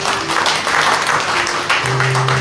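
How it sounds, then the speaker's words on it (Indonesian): A church congregation applauds during a sermon, a short, full burst of clapping with a low hum of instruments or voices beneath it. "Berikan tepuk tangan bagi Tuhan."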